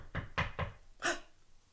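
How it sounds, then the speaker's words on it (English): Four knocks on a door in a quiet room, three close together and a louder one after a short gap, with no voices. "there was a knock"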